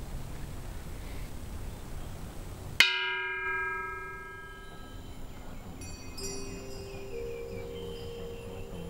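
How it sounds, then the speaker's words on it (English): A large temple bell at a Thai temple is struck once, giving a sharp clang that rings on with a long, shimmering decay over several seconds, followed by faint lighter chimes in a quiet setting. "you make a wish beforehand and then you bang the bell"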